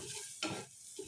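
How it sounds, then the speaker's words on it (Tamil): Onions sautéing in hot oil in a pan, a faint sizzle with a quick stir or scrape in the middle of a brief moment. "இப்போ இந்த வெங்காயத்தை கொஞ்சம் வதக்கி எடுத்துக்கிறோம் நம்ம."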